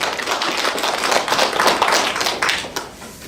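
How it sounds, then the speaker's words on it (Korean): Audience applause at a graduation ceremony, a dense steady patter of many hands clapping close by, fading slightly toward the end. "큰 박수 부탁드리겠습니다."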